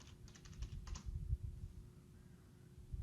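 Keys tapped on a computer keyboard while entering a password for a Wireshark session, a quick run of soft clicks in the first second then lighter scattered taps over a low steady hum, close and fairly quiet, with no talking.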